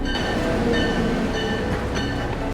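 Train at a railway station in a film scene, a steady loud rumble of rolling rail cars with faint wheel clatter running throughout, no speech.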